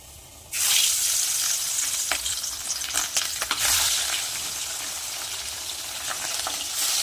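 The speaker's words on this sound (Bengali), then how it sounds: "তেল কিন্তু গরম হয়ে গেছে একে একটা মাছগুলো ভেজে নেব" Parshe fish seasoned with salt and turmeric drops into hot oil and bursts into a loud, close sizzle, with scattered crackles and spatters that settle into a steady frying hiss.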